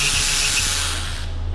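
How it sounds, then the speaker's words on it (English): A ratchet clicks steadily and loudly up close as it undoes the rear brake caliper slider bolts on a 2018 Volvo V40 during a brake pad change. "Right, so we got our ratchet here."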